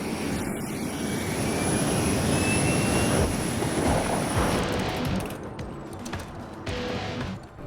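Airplane engine roar in a film scene, a loud sustained jet-like rumble that swells and then fades, continuous with no talk.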